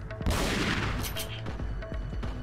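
A shotgun blast in the video game Resident Evil 4: a single heavy, booming shot bursts loudly after a short quiet lead-in, then decays into a rumbling tail with faint game ambience and small follow-up thuds.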